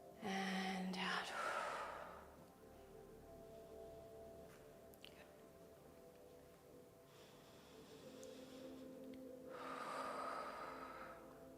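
Deep breaths in and out during a stretching workout, two long airy exhales close to the mic separated by a quieter stretch, with faint breathy background.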